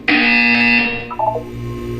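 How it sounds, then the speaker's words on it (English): A loud, harsh electronic buzzer in the Portal 2 video game blares steadily for about a second, then cuts to fainter stepping tones and a low hum. "You will hear a buzzer."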